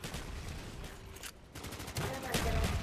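RPK machine gun fire in the Black Ops video game, a dense rattle of rapid automatic bursts with a short pause in the middle, loud and close, with faint game noise beneath.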